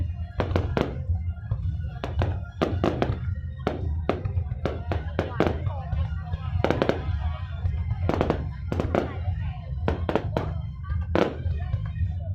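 Fireworks at the opening ceremony of the 2019 Cua Lo tourism festival in Nghe An, Vietnam: a rapid, irregular series of sharp bangs and cracks over a constant low rumble, fairly close, with crowd voices faintly underneath.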